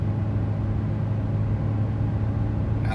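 A 2017 GMC Canyon crew cab work truck with a 4-cylinder engine pulls steadily while towing, giving a constant low droning rumble from inside the cab, and nobody speaks.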